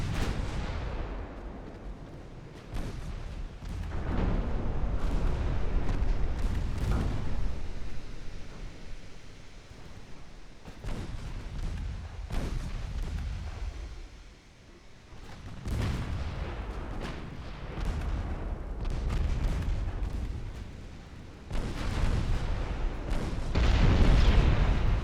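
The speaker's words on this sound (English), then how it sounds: "the secondary guns on the battleships can effectively deal with the light cruisers" Battleship guns fire in the Ultimate Admiral Dreadnoughts video game, a series of deep booming salvos with rumbling tails that rise and fade repeatedly over a noisy sea-battle background.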